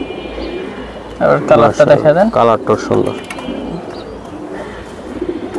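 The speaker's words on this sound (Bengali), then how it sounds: "এটা পুরানো জাতের বাঘা মাদি কবুতর।" Pigeons coo softly in a pigeon market where old-breed Bagha female pigeons are for sale, the low calls running steadily beneath a man's close, loud talking.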